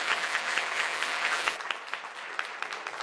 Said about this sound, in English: Just a quick round of applause for